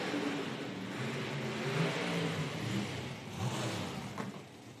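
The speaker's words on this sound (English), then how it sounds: "That was not smooth burnout right there." A Pro Mod or Top Fuel drag racing car does a rough burnout at an IHRA Outlaw Nitro qualifying event in Dunn, NC, a steady loud engine roar with tire noise heard from a distance, holding for several seconds.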